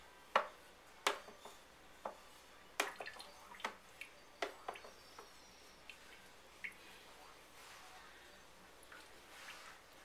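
Goat cheese curds being broken up in whey for chevre, giving a series of soft wet splashes and sloshing knocks at irregular intervals, fairly close, with a quieter stretch toward the end.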